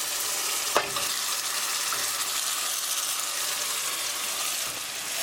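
Tomatoes stirred in a pan for rajma, a steady sizzle running throughout with one sharp scrape of the spoon near the start; close and fairly loud, no voices.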